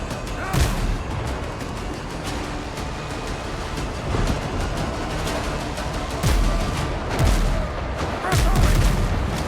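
Deep booms of ship cannon fire ring out repeatedly in the pirate sailing video game Windrose, several heavy shots spaced a second or two apart over a rolling sea-and-wind bed.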